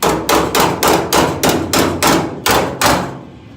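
Hammering to shape welded metal: nine steady, evenly spaced ringing blows, loud and close, each with a short metallic decay, ending in a brief fade.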